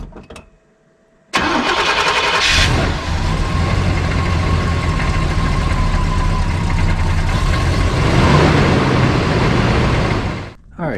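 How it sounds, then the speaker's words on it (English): A 1973 GMC pickup's 454 V8 cranks and starts after a brief silence, then settles into a loud, steady rumbling idle as it warms up, close by, cutting off near the end. "got the engine getting warmed up"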